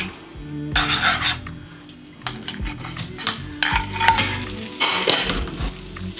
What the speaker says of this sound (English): we're just gonna add a little oil to our pan and then we're gonna fry our plant steaks for 9 minutes